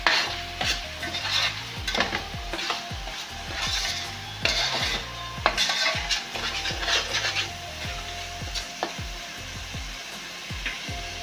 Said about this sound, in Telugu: కలిసేదాకా బాగా కలుపుకుందాం టమాటాని